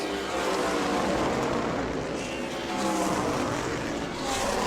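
Race cars running practice laps at New Smyrna Speedway in an ASA Stars National Tour session, a loud continuous blend of engines roaring past with no pause and no talk.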